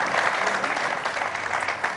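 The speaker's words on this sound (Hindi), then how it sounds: "इसके दोबारा तालियां होनी चाहिए इसके लिए" Enthusiastic applause from a studio audience at a Ramadan iftar show, a dense, steady clatter of clapping hands that holds at full strength throughout the short burst.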